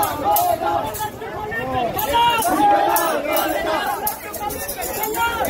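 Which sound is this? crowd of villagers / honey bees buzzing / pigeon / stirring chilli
crowd of villagers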